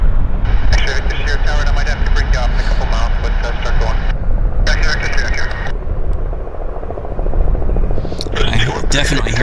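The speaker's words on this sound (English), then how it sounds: "Definitely hear a chopper." A helicopter flying overhead near Vancouver Airport, its rotor chop loud and throbbing with a high engine whine, fading briefly midway then swelling again.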